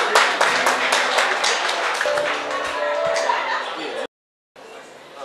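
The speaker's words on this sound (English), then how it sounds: "Give another round of applause for the people that just got here." A live audience at a Mother's Day show claps and cheers for late arrivals, loud and close, with a voice over part of it before a brief cut to silence and a quieter room tone.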